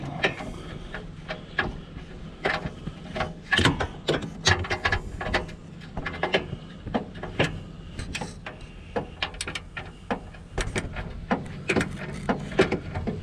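Socket ratchet wrench turning while installing exhaust test pipes on a Q50, G37 or 370Z, rapid irregular clicking bursts with metallic knocks close by, no one talking.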